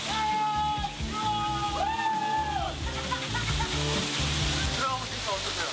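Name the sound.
waterfall pouring water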